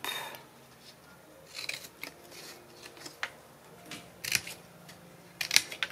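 Scissors cutting a sheet of paper for a welcome-baby scrapbook album, a few separate crisp snips with quiet pauses between them, close and fairly soft, with no talking.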